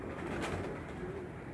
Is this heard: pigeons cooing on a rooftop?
yes